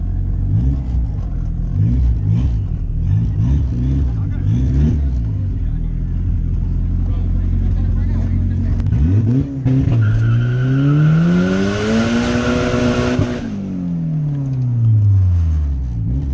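Engines rev at a callout car meet in Mexico, one BMW among them, with repeated throttle blips and rumble giving way to a long rising and falling rev near the end, close and loud, with voices talking throughout.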